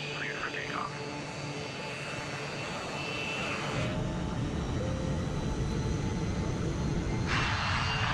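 Engines on a West Caribbean airliner roar steadily and loudly at night on the runway as it takes off from Panama, with a voice speaking briefly early on.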